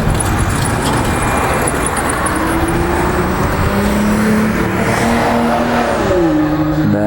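Harley-Davidson Screamin' Eagle Ultra Classic motorcycle with Vance & Hines exhaust, engine running at a steady loud idle and rising slightly in pitch.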